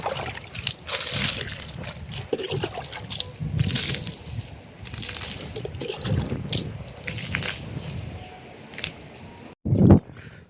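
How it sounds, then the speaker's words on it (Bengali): Concrete slabs are watered for curing, with uneven splashing, trickling and dripping that rises and falls for several seconds, followed by a brief pause and a short, heavy splash. "তার আগে স্ল্যাবগুলো জল দিয়ে নিচ্ছি"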